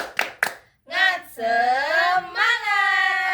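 Schoolchildren in a classroom perform a rhythmic clapping chant led by their teacher: two sharp, close claps ring out, then the young voices sing out a long, drawn-out shouted chant together.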